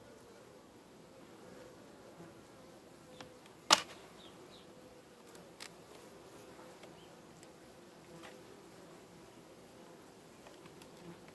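Honeybees at an open hive in September hum as a steady, soft buzzing drone throughout, with one sharp close click partway through.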